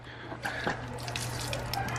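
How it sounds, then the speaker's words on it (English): Warm water runs steadily from a tap into a sink, a continuous close splashing hiss with a constant low hum underneath and a few brief clicks, no voices. "That's the warm water."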